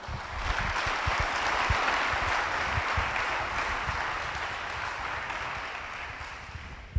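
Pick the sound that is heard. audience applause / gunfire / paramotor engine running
audience applause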